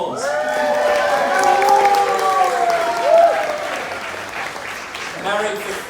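Wedding guests applaud the bride's parents at a reception, a full room of clapping and a few cheers, while a voice with a sung or drawn-out tone sounds loudly over the applause.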